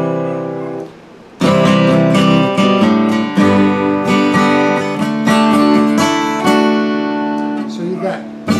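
Acoustic guitar strums walk-down chords, loud and close, with full ringing strums and bass notes stepping down, starting after a short quiet gap.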